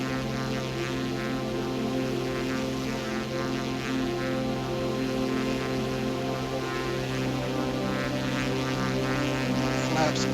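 A Cirrus SR22TN propeller plane in X-Plane 12 takes off with a loud, steady engine drone and layered propeller hum that holds constant throughout.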